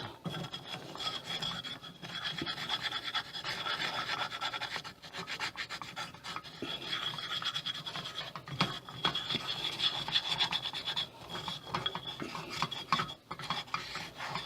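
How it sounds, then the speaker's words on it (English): A utensil scrapes browned seasoning and liquid smoke residue off a non-stick pan, a continuous close rasping and rubbing that keeps going with uneven strokes throughout. "Scrape all that brown off the pan"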